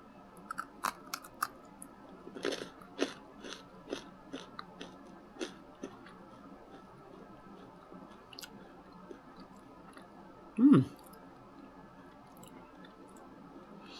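Close, quiet chewing of a cookie-flavoured food, soft crunches and mouth clicks scattered at first, then sparser, with one louder wet gulp near the end and no talk.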